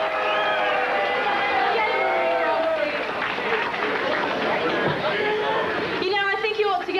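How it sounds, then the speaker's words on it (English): A capacity arena crowd at a wrestling event cheers and whoops for a wrestler's entrance, a loud, continuous roar of many voices with shouts rising above it, and a brief burst of clearer chatter near the end. "getting a very warm reception from the capacity crowd"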